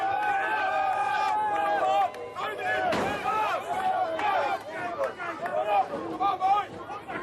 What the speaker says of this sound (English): The crowd is shouting Ab on.